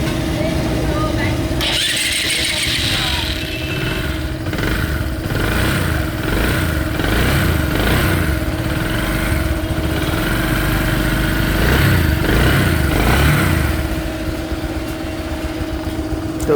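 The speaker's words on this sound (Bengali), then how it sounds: "এই বাইকের সাউন্ড শুনলেন" A 2016 Bajaj Discover 125 motorcycle, with a starter that cuts out while running and a new set of engine bearings, starts up. It then idles loudly and close, with a steady, unbroken engine drone.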